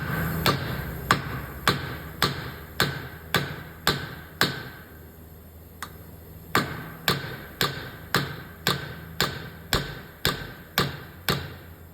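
A rusted axle shaft on a Ford Escape is hammered through the rear wheel bearing in a long series of sharp, evenly spaced metallic blows, close and loud, pausing briefly midway before resuming.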